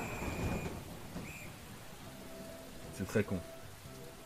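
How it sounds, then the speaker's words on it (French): Rain patters steadily with a few louder bursts in the video game Persona 5, while a person speaks briefly in French over it. "Ah, il pleut."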